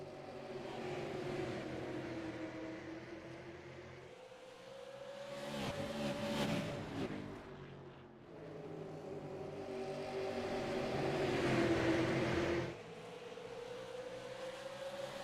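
Race cars accelerate hard on a green-flag restart at a short-track race, engines rising and falling in pitch as the pack passes, loud and sustained with no talk.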